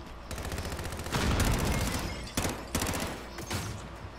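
Rapid bursts of video game gunfire, including pistol shots, crack out in several clustered volleys over a few seconds, moderately loud with no talking.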